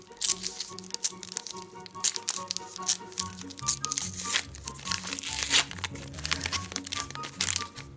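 A Carrefour trading card booster pack is torn open close up, with crisp crinkling foil and sharp crackles in quick irregular bursts, quiet overall.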